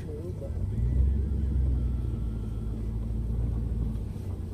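A 2001 Chevy Z71 four-wheel-drive truck with a 4.8 Vortec V8 idles through a homemade exhaust, a steady low rumble that swells slightly early on and holds even and close throughout.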